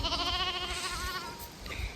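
Sheep moving together in a flock give a drawn-out, wavering bleat up close, then a second shorter call, over a soft outdoor background.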